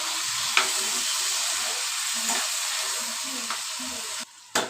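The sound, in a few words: stirring and frying egg curry masala in pan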